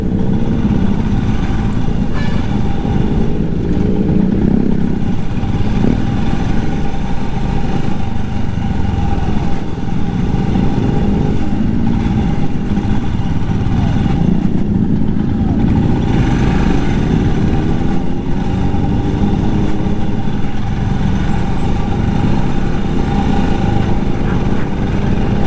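Motorcycles ride on a highway near Delhi in a group ride of Himalayan, KTM, Dominar, MT150 and FZ bikes, producing a steady, close engine drone with wind rush that runs the whole time, with no talk.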